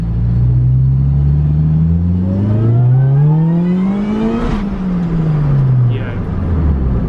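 A supercharged car pulls hard through second gear, engine note climbing steadily to a peak, then dropping as the revs fall and climbing again. The sound is close and loud, with a continuous rumble underneath.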